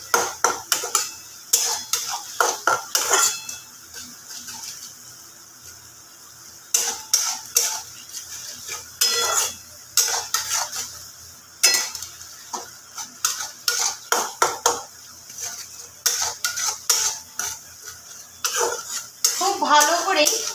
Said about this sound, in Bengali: এবার সময় ধরে মশলাটাকে কষাতে হবে